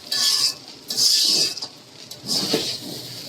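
Chowmein noodles being stirred in a pan, with repeated scraping and clattering of a utensil against the metal in short bursts, close and fairly loud.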